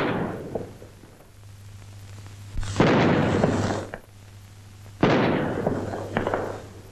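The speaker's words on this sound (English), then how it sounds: "At the tower, the salute is fired by the Honourable Artillery Company." The Honourable Artillery Company fires an artillery gun salute at the Tower of London in 1952, heard as two heavy, echoing booms a couple of seconds apart over a low hum from an old recording.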